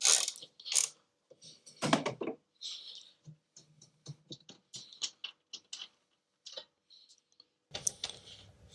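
A ratchet loosening strut brace bolts on a BMW M140i, with irregular bursts of sharp close clicking and ticking separated by brief pauses.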